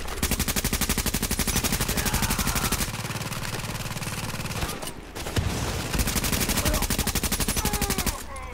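Enemy Rikers firing shotguns in Tom Clancy's The Division: a loud, sustained exchange of rapid, evenly spaced gunfire with a short break midway before the shooting resumes.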